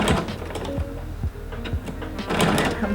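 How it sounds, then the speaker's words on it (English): Sewing machine backstitching along quilt binding toward a corner, a steady rapid mechanical stitching chatter up close with brief pauses and changes in pace. "now I'm going to backstitch to the corner"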